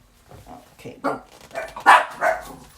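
Several pet dogs outside bark excitedly at squirrels in a few sharp bursts, fairly close, heard over a person talking in a kitchen.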